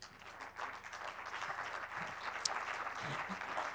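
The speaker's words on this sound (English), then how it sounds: "Can I have a big round of applause, please?" Audience applause at a film talk, steady clapping at moderate level throughout, with faint voices mixed underneath.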